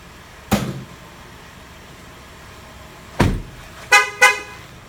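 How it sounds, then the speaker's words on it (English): A 2016 Ford Flex with a 3.5-liter six-cylinder engine sits running while its horn gives two short, close honks in quick succession, following a couple of sharp door-like thumps over a low idle. "Of course, it's going to honk because I took the key out of the car with it running."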